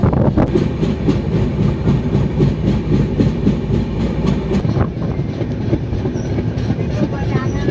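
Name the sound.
train running on the Kolkata to New Jalpaiguri route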